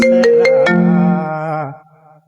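A phone ringtone plays a short, bright electronic melody, loud and close, then fades out.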